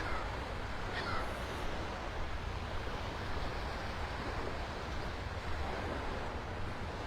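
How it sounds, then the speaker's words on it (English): A laughing gull calls from a sandbar on a Naples, Florida beach, its cries faint and partly buried under steady surf and wind noise. "Hush up, noisy seagull over there. The laughing gull."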